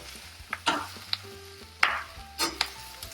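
Mushrooms cooking in a pan under a lid, a low soft sizzle punctuated by a few sharp clinks and knocks of utensils or the lid, fairly quiet and close with no speech.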